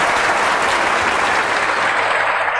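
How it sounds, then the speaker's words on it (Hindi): A student is welcomed with loud, steady applause from an audience, a dense continuous clatter of many hands that holds at full strength throughout. "तो अब आप एक बार जोर से तालियां बजा के इनका स्वागत करो।"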